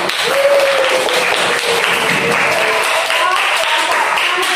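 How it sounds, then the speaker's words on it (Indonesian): Students in a classroom clap for one group of classmates, a steady burst of applause that lasts throughout, with voices rising above the clapping. "Kelompok 4 tepuk tangan."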